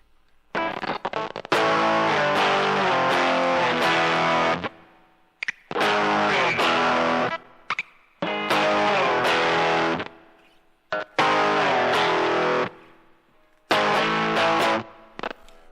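Loud, heavily distorted electric guitar played through the virtual amp of a TASCAM DP-24/32 recorder in short phrases, each burst cut off by brief silences.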